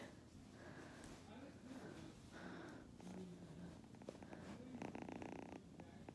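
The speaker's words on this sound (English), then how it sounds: "She's a little kitty." A small kitten purrs close up, a soft, continuous rumbling vibration that runs throughout, with faint sniffs and a person talking quietly over it.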